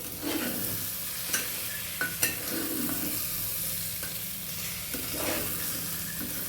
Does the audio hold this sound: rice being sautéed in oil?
yes